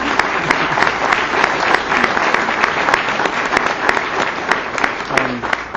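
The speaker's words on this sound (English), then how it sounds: "why don't you just give them a round of applause right now?" Wedding guests at a ceremony clap for the couple, a dense, continuous round of applause from a crowd lasting throughout with sharp individual claps standing out.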